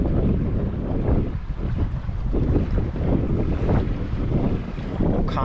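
A Beneteau First 40.7 sailboat sails across a bay with steady wind buffeting the microphone, a continuous loud rushing roar mixed with water and hull noise throughout.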